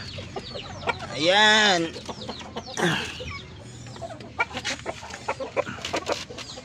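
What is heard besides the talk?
darag native chickens clucking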